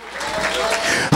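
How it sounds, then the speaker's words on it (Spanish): A church congregation breaks into brief, full applause, a steady wash of clapping that swells and cuts off abruptly with a short thump at the end. "Dale un aplauso a Cristo"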